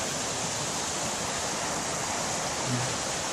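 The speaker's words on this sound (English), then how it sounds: "You hear the water." Water flows steadily in a stream nearby in Kanaka Creek Regional Park, British Columbia, a continuous broad rushing sound with no pauses.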